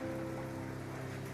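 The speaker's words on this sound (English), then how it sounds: "I shut my eyes and listened to the rain" Steady rain patters on a surface, a continuous even hiss of drops with a low hum underneath, no voices.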